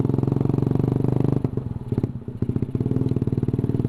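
A motorcycle cruises along a road near the Batu Karas beach area, its engine drumming in a steady low pulse that dips briefly as the throttle eases, then picks back up, close and continuous with no talk.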